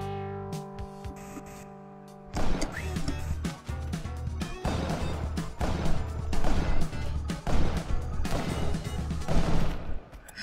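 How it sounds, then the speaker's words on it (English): Gunfire and crashing impacts from the video game Spelunky, a burst of sharp hits and clattering bangs after a few quiet seconds, dense and loud. "Oh, he managed to shoot me!"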